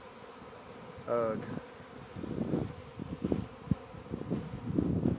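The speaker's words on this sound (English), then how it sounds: "looks like a pretty good sized swarm, so now my bees are" A good-sized honey bee swarm gathers high in a tree about twenty feet up, giving a faint steady insect buzz under a brief grunt and some rustling.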